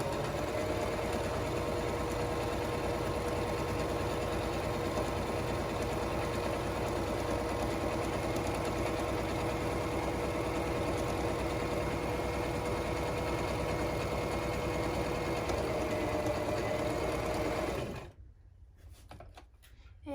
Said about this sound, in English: We're going to be sewing, we're going to back stitch and then continue forward.